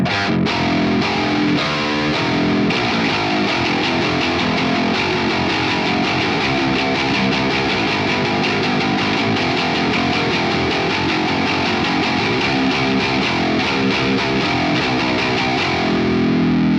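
A heavily distorted electric guitar tuned down to drop E chugs low, thick riffs through a tube amp with a Fortin Zuul in the loop, loud and continuous, dense with crunchy overdrive.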